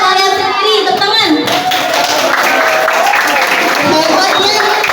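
Students clap their hands together in a classroom, a dense, steady patter of applause under children's voices chattering throughout.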